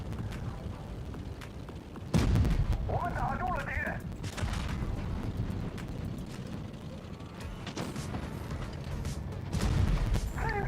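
Tank cannon fire in World of Tanks during a tournament match: a few heavy booms, one sharp and loud, over steady game rumble and someone talking.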